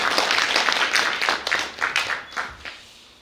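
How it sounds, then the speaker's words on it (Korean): An audience at a residents' meeting on a redevelopment project claps for a few seconds, a short burst of applause that thins out and stops. "박수 한번 부탁드리겠습니다."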